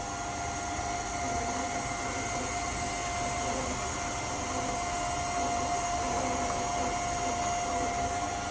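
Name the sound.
electric mixer mixing tea cake batter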